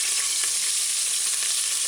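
Beef chunks browning in about a quarter cup of hot coconut oil, giving a steady, dense sizzle and spatter that holds evenly throughout, close and loud with no talking.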